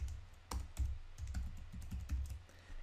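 Fingers type a short word on a computer keyboard, giving a quick cluster of close, soft clicking keystrokes with a few louder taps, no talk.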